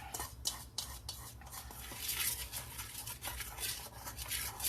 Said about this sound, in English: And we're going to mix all this in.